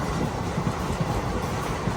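A train rumbles along the tracks with a steady low roar and faint rhythmic clacking, moderately close and continuous.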